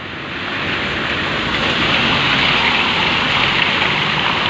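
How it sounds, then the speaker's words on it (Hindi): Heavy rain mixed with falling hailstones pours down in a dense, loud, continuous roar during a village storm, with no break or voices. "बरसात कड़ा कड़ा हो रही है।"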